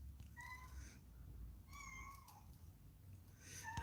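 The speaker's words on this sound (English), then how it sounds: "I'm hearing the cat in here." A cat meows three times, drawn out and moderately close, alone over a steady low background hum indoors.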